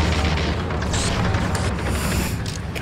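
A grenade explodes in a Terminator film battle scene, giving a loud, sustained rumbling boom with scattered bursts and crackles layered over it, and no voices.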